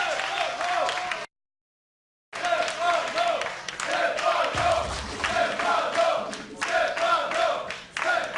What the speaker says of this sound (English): The crowd here in Cologne, Germany, live chanting Stephano's name as this series begins.